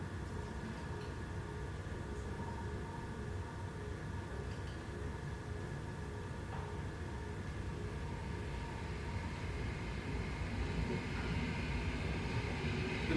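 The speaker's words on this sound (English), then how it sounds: "The drone of the train car rattles the scene to life." A continuous low drone and rumble of a train car in motion, steady and moderately loud throughout, with no voices.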